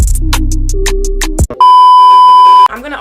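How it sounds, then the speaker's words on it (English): A phone text-message notification sounds as one loud, steady electronic beep lasting about a second, cutting in sharply after a burst of louder sound and ending abruptly. "somebody texted me"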